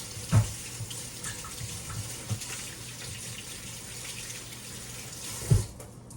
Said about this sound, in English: Rinse my hand right fast.